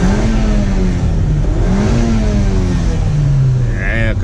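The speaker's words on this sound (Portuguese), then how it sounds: "Vou colocar o neto aqui pra vocês escutar o ronco do carro." A car engine with a sport exhaust revs loudly up close, its tone rising and falling in a continuous drone with no breaks.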